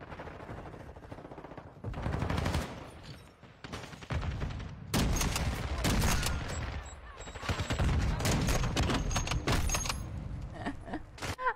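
Rapid bursts of video game gunfire rattle in dense, loud volleys with brief pauses between them, sharp cracks piling up close by and no voices over them.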